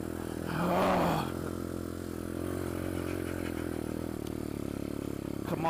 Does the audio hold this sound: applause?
no